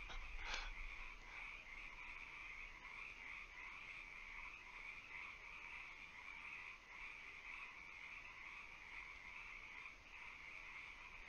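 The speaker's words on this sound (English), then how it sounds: "Let's enjoy the sounds of nature." A marsh frog chorus keeps up a continuous, even croaking throughout, with one short sharp click near the start.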